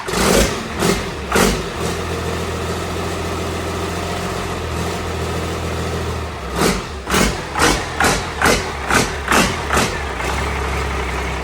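Cummins 12-valve diesel in a 1973 Chevy C30 dually being cranked, a loud rhythmic chug of starter pulses in bursts, then a low rumble as the engine nearly catches.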